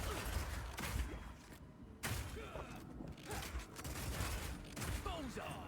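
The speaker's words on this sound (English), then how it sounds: "your Power Shot hits a weak spot and does a huge amount of single target damage" Power Shot skill firing in Path of Exile 2, a burst of heavy thumping impacts and mechanical clatter over a dense game mix, with brief pauses between volleys.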